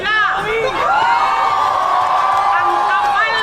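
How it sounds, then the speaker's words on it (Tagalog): A large crowd at a political speech shouting loudly in unison, a sustained roar of many voices rising and falling across the whole stretch. "Bulyawan po natin sila."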